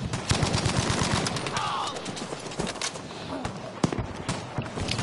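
Bren light machine gun firing in Battlefield V, rapid bursts of shots against a busy, loud battlefield backdrop, with sharp cracks throughout and one heavier report near the end.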